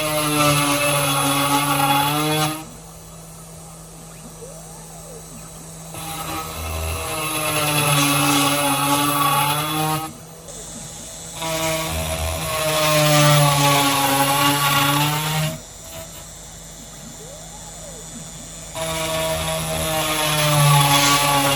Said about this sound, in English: I modify my machine and created special table to hold the fire brick ready for CNC machining.